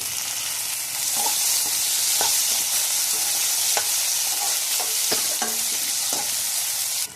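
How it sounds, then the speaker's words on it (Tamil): Tomatoes and a couple of cashews sautéing in a hot pan, a loud, constant bright sizzle with scattered light ticks and scrapes of a stirring spoon, close up and without talk. "வதக்கிக்கிறேன். இப்போ தக்காளி ஆட் பண்ணிக்கிறேன்."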